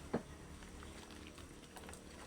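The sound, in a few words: water boiling in cooking pot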